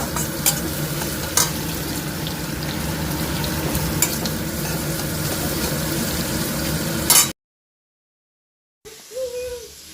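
Vegetables, capsicum among them, being lightly sautéed in a pan for hakka noodles, a steady sizzle with stirring scrapes and occasional spoon clinks for about seven seconds, then a brief silence and a quieter return.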